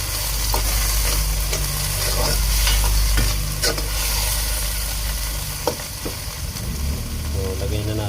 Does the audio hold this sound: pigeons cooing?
no